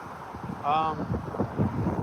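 Strong 15 to 20 mph wind on the Deschutes River rumbles against the microphone in low gusts, while a voice briefly speaks or calls out partway through.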